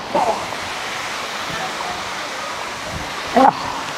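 Water at Dampalit Falls in Los Baños, Laguna, flows as a steady broadband rush, with brief bits of voice at the start and end.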